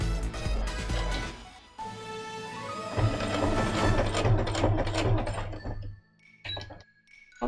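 A sewing machine stitches through thick layers of cosplay fabric, a mechanical whirring hum with ratcheting clicks that stutters and labors at points before pausing near the end.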